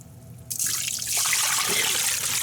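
Water is poured into a Ninja Foodi pressure cooker and spills onto the floor: a brief quiet moment, then a sudden, continuous splashing pour that stays loud and close until the end.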